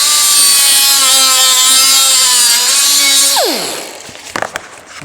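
A power tool cutting into 50-year-old plastic for a 1970 El Camino headliner: a loud, steady, high whine, then a falling pitch as the tool spins down, followed by a few light clicks and taps.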